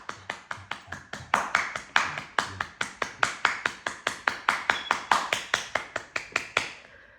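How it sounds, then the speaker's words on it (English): Steady rhythmic hand clapping by one person during a yoga breathing exercise, around two dozen close, crisp claps at an even brisk pace that stops after about seven seconds. "Now, as you breathe out and hold it and clap."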